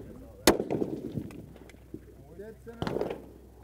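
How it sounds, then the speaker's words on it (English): Two sharp gunshots from a Ruger Precision Rifle at an outdoor shooting range, each a single loud crack with a short rumbling tail, a couple of seconds apart, with a voice murmuring between them. "Okay. Shooting."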